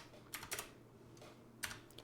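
Quiet typing on a computer keyboard, a few scattered key clicks and short clusters over a low steady hum.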